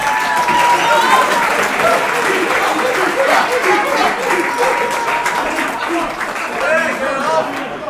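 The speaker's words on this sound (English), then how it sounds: "You give Bob a round of applause." Guests at a celebration applaud after a speech, a loud, dense round of clapping that holds steady for several seconds, with voices mixed in among the crowd.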